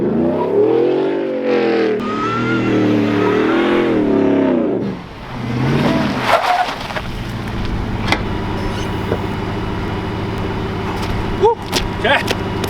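A Shelby F150 pickup truck doing donuts, its engine revving loud and close, pitch swinging up and down before settling into a steady drone with sharp clicks and knocks, and a voice speaking briefly early on.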